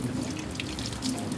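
Tap water runs steadily into a kitchen sink during washing up in a beach-view kitchen on Siargao island in the Philippines. The flow is close, constant and fairly loud, with faint splashes and drips over it.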